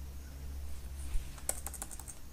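A few quick, light keystrokes click on a computer keyboard while a git add command is typed, soft and close, with a faint steady hum beneath and no speech.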